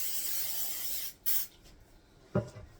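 A long burst of aerosol spray hisses steadily for about a second, then stops, followed by a quick short puff and a faint clatter.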